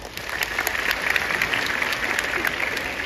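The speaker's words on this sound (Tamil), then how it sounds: "இது ஒரு மிகுந்த கரகோஷம் கொடுக்கலாம் இல்லையா?" An audience at a scholarship award ceremony in Tamil Nadu claps loudly and continuously, a dense, even patter of many hands filling the whole stretch without a break.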